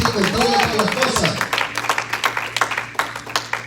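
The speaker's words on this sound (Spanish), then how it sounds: "Un aplauso, hermano, a ese Dios" A church congregation claps for God during a Spanish-language worship service, the scattered, uneven hand claps building into steady applause over a sustained musical tone.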